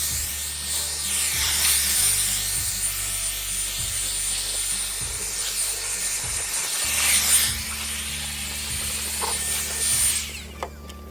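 A mouse sander works over an aluminum jon boat with a steady, loud high-pitched whir, broken by a brief pause midway and a stop near the end, with no talking.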